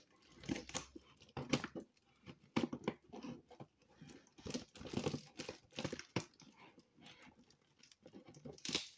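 Large scissors cut open a taped parcel, giving a string of close, irregular crunches, snips and crinkling of tape and packaging, some bursts sharper than others, separated by brief quiet pauses.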